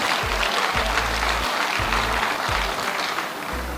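Audience applause filling the room after a speech about Lagos, a steady dense wash of clapping with low rumbling thumps beneath, continuous and loud throughout.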